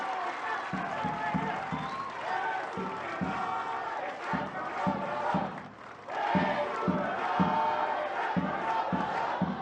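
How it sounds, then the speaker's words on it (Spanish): A large crowd at a political rally in Guadalupe, Zacatecas, Mexico roars and cheers with steady rhythmic clapping and chanting, loud and continuous, briefly dipping before swelling again. "Un aplauso al presidente López Obrador de aquí a Palenque"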